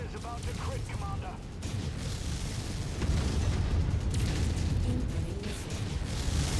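Explosions and booming weapon fire in the mech combat game Mechwarrior 5, a dense continuous roar of blasts with louder bursts in the second half, heard under radio-style voices talking.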